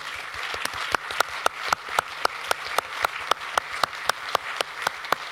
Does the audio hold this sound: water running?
no